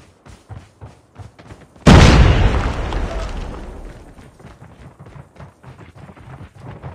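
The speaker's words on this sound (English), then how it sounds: "Grenade out!" A grenade detonates in the Call of Duty Mobile Frontline Nuketown map, one loud sudden boom that rolls off over a couple of seconds, set among game voice callouts and gunfire.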